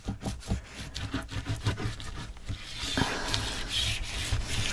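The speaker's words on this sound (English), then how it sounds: "Let's burnish this down, make sure it's holding nicely." Paper is burnished down onto an album cover by rubbing, giving close, steady scratchy strokes in a quick back-and-forth rhythm with no talking.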